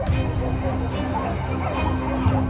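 Hunting dogs bark and yip in a continuous, busy chorus while chasing wild boar through thick bushes, loud and close with overlapping calls and whimpers.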